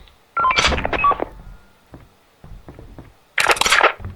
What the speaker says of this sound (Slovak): čiže mám walkie-talkie